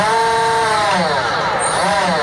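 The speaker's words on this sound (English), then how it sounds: "So you can hear, we can control the motor." A brushless motor in an RC car whines loudly and close up under ESC control, its pitch sliding down and then rising again in sweeping arcs, with no speech.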